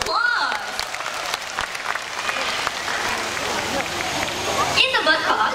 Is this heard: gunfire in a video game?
no